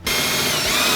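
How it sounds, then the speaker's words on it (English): A power drill bores a hole out to 1/4 inch while a filler panel is fitted to a Harley, starting abruptly and running as a loud, steady, close whine for a full second. "you're going to drill that out to 1/4 inch"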